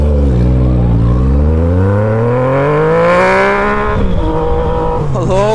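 Motorcycle engine revving hard, its pitch climbing steadily through rising harmonics, then dropping sharply and revving again, loud and close.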